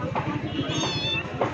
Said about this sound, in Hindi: ये देखिए पालतू बिल्ली,